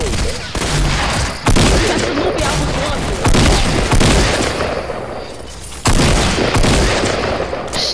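Gunfire in a PS4 multiplayer shooter, heavy bursts of shots and booms arriving in several loud volleys separated by short lulls, close and dominant.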